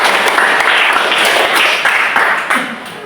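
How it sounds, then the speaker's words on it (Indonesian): Applause from a classroom audience during a lesson, a dense steady wash of many hands clapping close by, sustained throughout and tapering slightly at the end, with no talking over it. "Ya, tepuk tangan sekali lagi."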